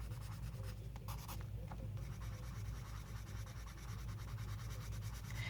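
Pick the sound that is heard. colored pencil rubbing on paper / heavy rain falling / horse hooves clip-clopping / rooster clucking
colored pencil rubbing on paper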